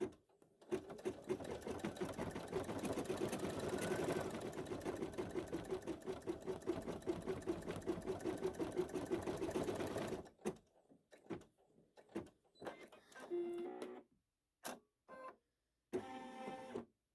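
A SweetPea embroidery sewing machine stitches out a doorknob design, a steady rapid mechanical clatter for about ten seconds, then stopping, followed by scattered faint clicks and short handling noises.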